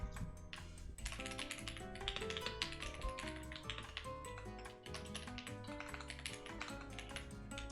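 Someone types on a computer keyboard nearby, producing a steady, rapid stream of clicking keystrokes with no pauses.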